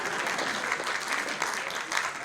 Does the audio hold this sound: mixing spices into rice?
no